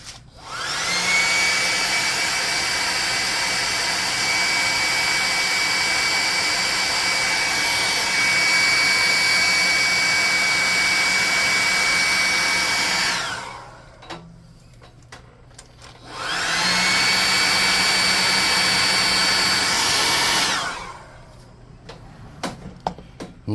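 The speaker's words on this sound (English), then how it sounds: "hot air gun burning" A hot air gun used while painting a miniature centaur blows in a loud, steady whooshing roar, cutting off for a few seconds and then running again before stopping, close up with no talking.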